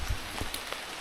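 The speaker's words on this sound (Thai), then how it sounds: "ฝนจะตกทุกคน" Rain falls in a forest onto a survival shelter with a rubber roof, a steady close patter with scattered drips, and no voices.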